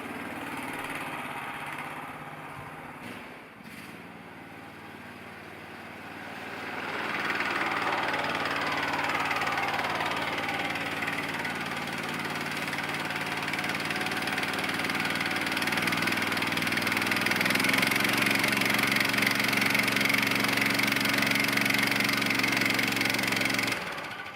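A snowmobile engine drones steadily while driving through deep powder snow, its pitch and loudness rising as the machine works harder, a continuous close roar with no talking.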